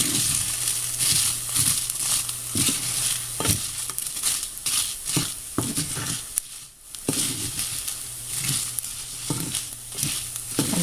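Chilies frying over medium heat in a pan for pomfret curry, a close steady sizzle punctuated by repeated spatula stirs and scrapes, with no speech.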